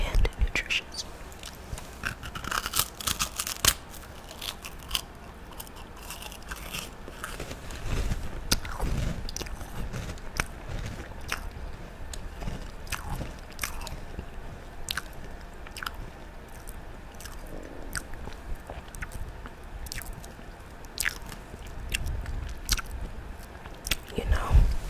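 Someone chewing and biting food shortly after a teeth tightening, with close, moist crunches and squishy mouth sounds repeating throughout and soft breathy vocal noises mixed in.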